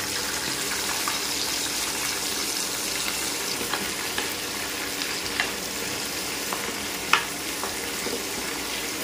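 Chopped onion and tomato sizzle steadily in hot oil for a homemade chicken curry, a close, even frying hiss throughout with a few faint sharp clicks and one brief louder crackle near the end.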